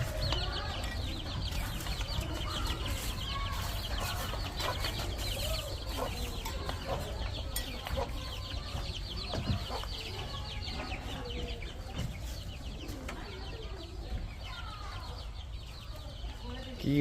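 Chickens and roosters cluck continuously at a market where birds are sold, with scattered fowl calls over a busy, noisy background and some indistinct voices nearby.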